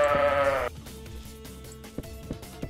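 Sheep in the video game Minetest give a single clear, close bleat, followed by quiet background game music with soft ticks and thumps.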